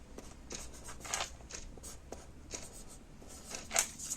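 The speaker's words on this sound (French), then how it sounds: "Je vais l'écrire." Measurements are written by hand during a sewing project, soft scratchy pen strokes in short bursts with brief pauses, close and quiet.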